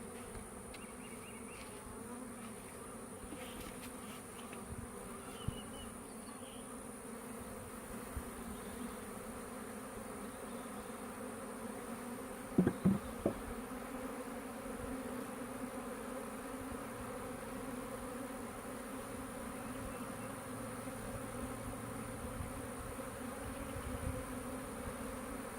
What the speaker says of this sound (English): I'm going to try sweeping the bees in with a bee brush, just to encourage them to go on down into the hive body